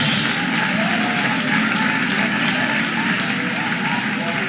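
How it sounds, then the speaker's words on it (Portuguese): A church congregation claps together in a dense, continuous burst, loud and close, with voices faintly mixed in under the applause. "Quero ouvir palmas misturado com glória a Deus."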